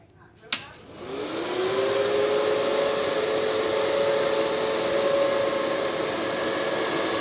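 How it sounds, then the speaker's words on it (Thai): A large cooling fan, part of a big-model machine setup, whirs up after a click at switch-on and keeps running as a loud, steady, close hum with a faint tonal whine and no talk over it. "ตอนนี้เสียงพัดลมจะดังมากเลยครับ"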